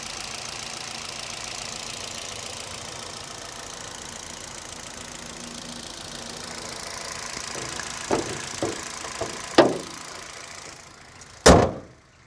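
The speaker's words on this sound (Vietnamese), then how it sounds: "nghe máy nổ quá phê luôn" A 2012 Hyundai Accent with a 1.4-litre engine and manual gearbox idles steadily with a low continuous hum, followed by a few sharp clunks and a loud knock near the end.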